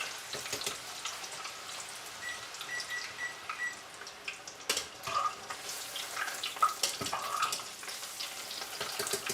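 Zucchini fries in hot oil with a soft, continuous sizzle and crackle, close by and fairly quiet, punctuated by occasional pops and light kitchen clatter.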